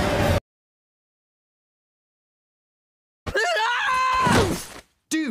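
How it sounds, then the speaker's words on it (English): An animated character screams in terror after waking from a nightmare, a loud, shrill, wavering cry that begins after a long stretch of silence, preceded by a brief earlier burst of sound. "You're screaming like a friggin' maniac"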